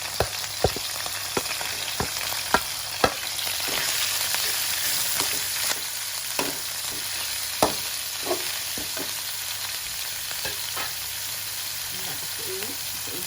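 Steady sizzling of beef stir-frying in a pan with cauliflower, punctuated by repeated clacks of a spatula against the pan.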